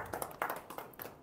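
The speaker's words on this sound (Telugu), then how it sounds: "అందరూ చప్పట్లు కొట్టి సంతోషాన్ని వ్యక్తపరుద్దాం." A small group claps for a birthday celebration, a brief burst of uneven, overlapping hand claps at moderate volume, with no talking.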